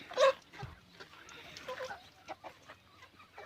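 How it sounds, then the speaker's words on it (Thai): Free-range village chickens clucking outdoors in the evening, with a sharp call near the start and scattered short clucks continuing at a moderate distance. "ไก่บ้านช่วงเย็นนะครับ"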